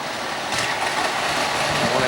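A classic toy train set from around 1927 runs along its track with a steady rolling rumble and light clatter, close and continuous.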